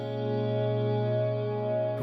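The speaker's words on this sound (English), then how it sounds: "Reverb." A sustained, harmonically rich tone drenched in heavy reverb, its wash ringing on evenly for about two seconds before a brief shift at the end; no voices.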